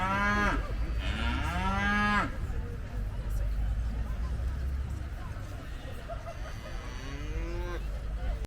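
Cattle at the 100th Kent County Show lowing in two long moos close by at the start and a softer one later, over crowd murmur and talk.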